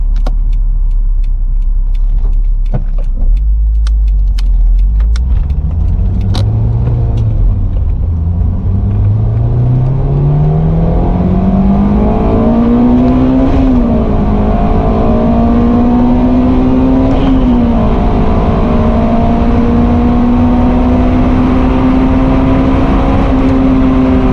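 A Honda S2000 accelerates hard in second gear, its engine note climbing steadily from a low rumble to a high sustained wail over about twenty seconds, loud and close with no talking.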